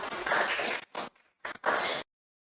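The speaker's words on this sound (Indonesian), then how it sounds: "Beri tepuk tangan untuk teman-temannya dong" Children in a classroom clapping together in short, loud bursts, with brief pauses between rounds before stopping abruptly.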